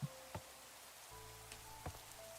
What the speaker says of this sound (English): Oh, and it's raining, of course.